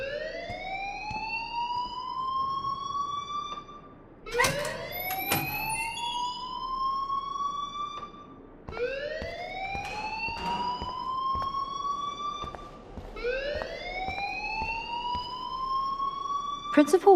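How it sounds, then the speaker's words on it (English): Fire alarm ringing through the school in the video game Life is Strange, a loud repeating rising siren-like whoop cycling about every four seconds, with a brief voice and sharp clatter breaking in between cycles. "please turn off that alarm since that's your job"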